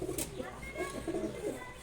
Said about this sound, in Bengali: এগুলো হচ্ছে সিলভার গোড়া কবুতর।